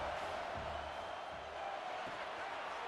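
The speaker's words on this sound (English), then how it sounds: "this crowd trying to help keep them there" Stadium crowd in EA Sports College Football 26, a dense, steady roar of fans cheering under a game commentator's voice.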